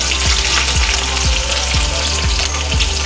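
Green chillies sizzle loudly in hot oil in a pan, a steady frying hiss with regular scraping stirs of a spatula about every half second, close up with no talk.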